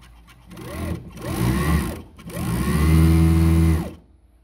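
An industrial cylinder-bed sewing machine, a Juki MF-7923 or NewTech GC-664-01DA, stitches fabric in three loud close bursts, each whirring up and winding down, the last and longest run holding steady before stopping.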